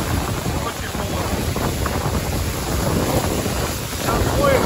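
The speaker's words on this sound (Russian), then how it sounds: "Ветер холодный такой." Cold wind blows hard across the microphone outdoors on a road trip to Turkey, a loud, dense, continuous rushing roar that swells slightly toward the end, with faint voices underneath.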